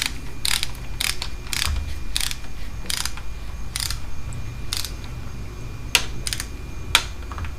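A ratchet wrench clicks in quick, evenly spaced bursts close by, tightening the front fork bolts on a 1984 Honda Shadow 500 motorcycle, with two sharper knocks near the end.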